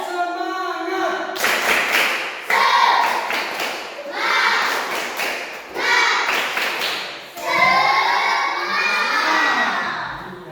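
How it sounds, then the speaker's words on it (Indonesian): A classroom audience of students claps and cheers in several loud bursts, with shouting voices mixed into the applause. "berikan dulu tepuk tangan semuanya"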